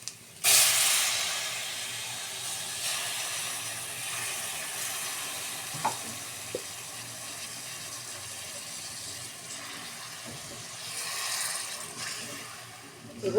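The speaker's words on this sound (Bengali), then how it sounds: "একটু জল দিয়ে দিই।" Water poured into a pan of frying rohu fish masala gives a loud burst of hissing steam and sizzle that then settles into a steady, close frying hiss with a few small clinks and a second swell later.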